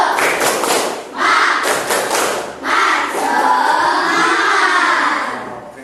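A classroom of schoolchildren performs a rhythmic spirit clap together, loud bursts of group clapping in quick patterns mixed with children's shouting and chanting voices, close and energetic throughout.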